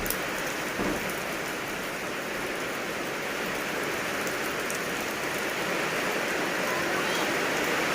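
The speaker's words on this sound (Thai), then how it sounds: "ฝนมันตกใหม่เนี่ย" Steady, dense rain pours down without letup, a constant close hiss of drops hitting surfaces that stays even throughout, with no other clear sounds.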